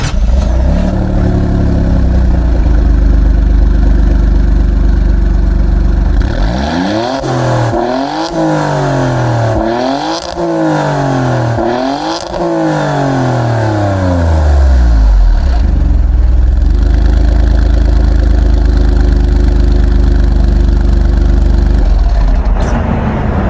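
A 2020 Alfa Romeo Stelvio Quadrifoglio with quad exhaust tips idles loudly up close, then gives several sharp rev blips that rise and fall in pitch before settling back into a steady idle.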